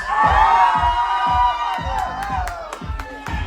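A crowd of children at a costume contest screams and cheers loudly together, a sustained roar with rhythmic stomping or clapping thumps beneath it.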